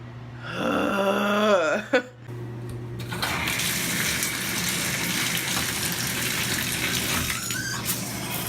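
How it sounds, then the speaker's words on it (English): Shower water runs steadily in a bathroom, a close, continuous broadband hiss that follows a brief plumbing squeal and knock at the start. "now I'm about to hop in the shower and I'm just gonna rinse it off in there"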